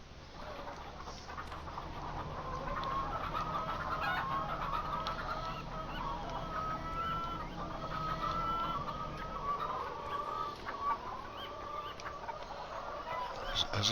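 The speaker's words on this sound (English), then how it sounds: "Is this for chickens? So I'm hearing the noise of chickens." Chickens clucking and squawking in a farming video game on a mountain lake map, a steady quiet stream of overlapping fowl calls with no break, fairly faint.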